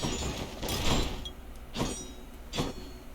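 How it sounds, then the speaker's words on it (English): A door sound from the video game Hades, heard as a few soft, airy whooshing bursts over steady low game ambience, with no talk. "That is the door."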